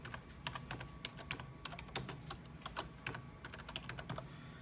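Someone types a user name on a computer keyboard in a quick series of crisp, closely spaced key clicks with small pauses, moderately near and alone.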